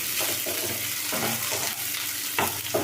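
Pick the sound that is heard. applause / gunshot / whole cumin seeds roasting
whole cumin seeds roasting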